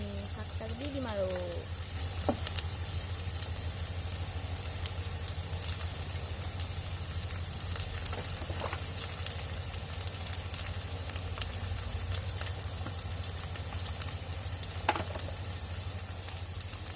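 Leafy greens (saag) sizzling in hot oil in a pan, a steady crackling fry throughout with a few sharp clinks of utensils, while a person talks over it.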